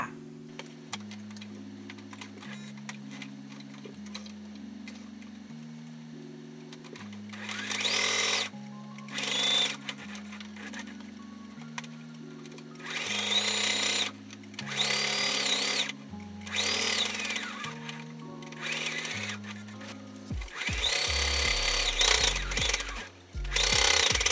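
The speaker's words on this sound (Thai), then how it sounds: "แล้วเราก็จะนำชิ้นงานไปเย็บทับรอบเลยนะคะ" A sewing machine stitches fabric around the edge of a Halloween pumpkin pet scarf in repeated rapid mechanical bursts, starting and stopping with short pauses between runs, close and loud over a soft musical background.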